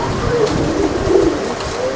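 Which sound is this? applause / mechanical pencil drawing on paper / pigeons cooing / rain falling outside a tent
pigeons cooing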